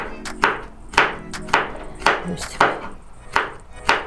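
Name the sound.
knife chopping bell pepper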